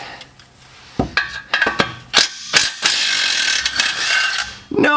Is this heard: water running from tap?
no